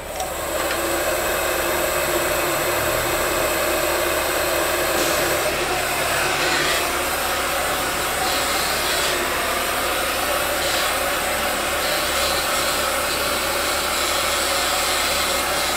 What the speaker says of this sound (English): Okay, heat gun.